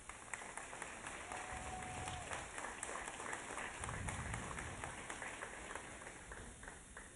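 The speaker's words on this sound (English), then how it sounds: "give them all a round of applause" Steady applause from an awards banquet audience, a dense patter of many hands clapping at once with a faint murmur underneath, continuing evenly throughout.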